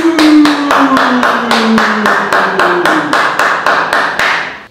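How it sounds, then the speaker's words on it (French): Studio audience applause welcoming a guest onto a talk show, heard as sharp, evenly spaced rhythmic claps, loud and close, keeping a steady beat before fading out at the end. "sous les applaudissements, Monsieur Akash Kimesh Kumar Baglou."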